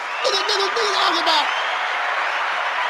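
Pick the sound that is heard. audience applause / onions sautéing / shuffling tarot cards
audience applause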